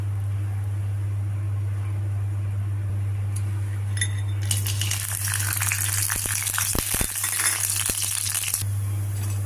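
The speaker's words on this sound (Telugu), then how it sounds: "కొద్దిగా నూనె వేసుకుని వడియాలు వేయించుకోవాలి" Vadiyalu, sun-dried lentil dumplings, frying in oil in a pan: a bright crackling sizzle bursts up after a few seconds over a steady low hum, lasts several seconds with small clinks, then dies back down.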